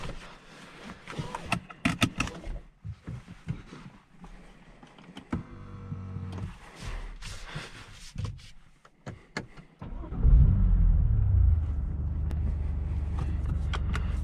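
A 2019 BMW M2 Competition with a manual gearbox gives scattered mechanical clicks and whirs, then its engine settles into a loud, steady low rumble for the final few seconds.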